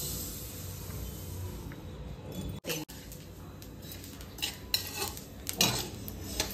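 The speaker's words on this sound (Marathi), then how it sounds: "तर खरपूस भाजून घ्यायचे तीळ" Sesame seeds being dry-roasted and stirred in a kadhai, half a kilo of them, with a steady scraping, rattling stir of the spoon against the pan throughout, a few sharper clinks near the end, close and without talk.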